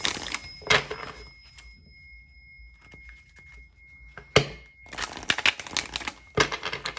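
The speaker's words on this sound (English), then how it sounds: "let's shuffle this about 2 more times" A deck of tarot cards being shuffled during a card reading, giving crisp riffling and slapping bursts in several short separated clusters, fairly close and soft, with quiet gaps in between.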